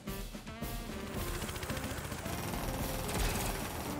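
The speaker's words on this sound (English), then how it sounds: "let's shoot this guy" Rapid bursts of gunfire from an attack in Advance Wars, a steady rattling barrage that runs loud and continuous throughout, with music-like tones underneath and no voices.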